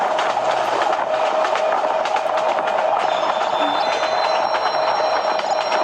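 A train rolls along the tracks in the Train Simulator Bangladesh video game, giving a steady, loud rumble with faint rhythmic clacking and a thin high whine throughout.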